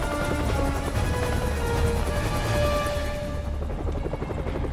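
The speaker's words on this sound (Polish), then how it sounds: "Kradną helikopter." A helicopter in the Spider-Man video game roars close and loud, its rotor thrum and engine whine sustained throughout, with no speech.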